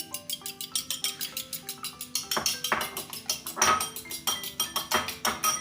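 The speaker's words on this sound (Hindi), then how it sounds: "ये 2 अंडे हमने तोड़ लिए, इनको हम फेंट लेंगे।" Two broken eggs being whisked in a bowl for chicken corn soup, a fast steady clinking of utensil against the bowl in a quick even rhythm, close and alone.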